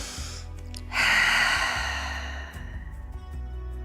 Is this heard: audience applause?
no